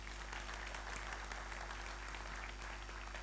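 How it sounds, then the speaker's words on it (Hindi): An audience at a network marketing training session applauds in a continuous, fairly even burst of clapping from many hands over a steady low electrical hum, heard at a moderate, slightly distant level. "तो एक बार अपने लिए तालियां बजाइए फिर इस बात पर।"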